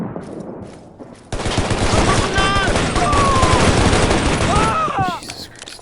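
Gunfire in the shooter game Shadow Ops: Red Mercury, a loud, dense stream of rapid shots and bursts that starts abruptly and holds for several seconds, with some whistling tones over it.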